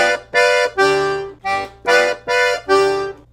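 A piano accordion plays a slow Brazilian forró groove, six loud, evenly spaced reedy chords pulsing close over a sustained bass drone.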